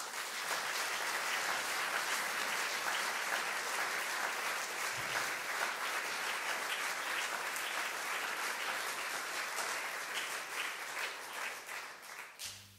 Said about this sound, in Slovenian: En aplavz za vse.